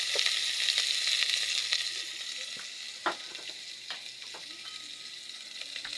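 Ingredients for mung bean stew sauté in a pan, a dense hissing sizzle that is loud at first and then settles, broken by a few sharp utensil scrapes and taps as the mixture is stirred.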